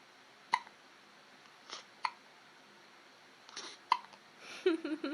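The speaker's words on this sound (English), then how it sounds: "Do you have the hiccups, Mama?" A baby hiccups several times, sharp short catches spaced a second or so apart, close and fairly quiet, followed by soft fussing vocal sounds at the end.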